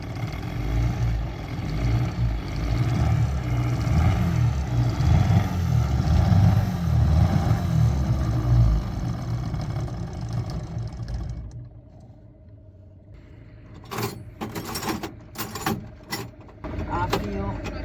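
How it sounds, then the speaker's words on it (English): An old outboard-style boat engine on a childhood boat under restoration, fuel dripped into the carburetor, starts and runs with a dense, loud low churning rumble for about eleven seconds, then cuts out, leaving faint sputters and sharp clanks. "I'm just dripping fuel from there, and now the engine starts"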